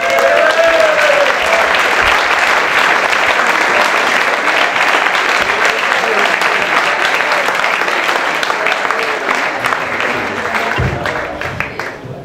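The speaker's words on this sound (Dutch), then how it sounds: "dus ik zou heel graag uw applaus vragen en het fossiel op het podium." Loud, sustained audience applause fills an award ceremony honoring a lifetime achievement at Eurosong.be 2013, steady clapping from a large crowd that slowly tapers toward the end.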